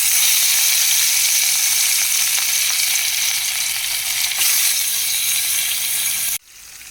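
Katla fish pieces coated in salt and turmeric fry in hot oil in a kadai, giving a loud, steady, close sizzle that runs unbroken until it cuts off abruptly near the end.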